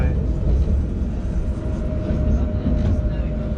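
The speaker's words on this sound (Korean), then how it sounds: "라인 1번 트램 편하긴" Jerusalem light rail Line 1 tram heard from inside while riding, a steady low rumble and rolling hum throughout, with voices faintly mixed in.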